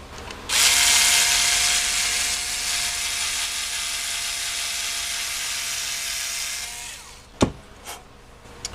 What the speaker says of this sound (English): I have to ream it out just a smidge.